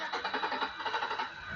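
A car engine cranking over in rapid pulsing bursts, the starter churning steadily and moderately loud at close range without fully settling into idle.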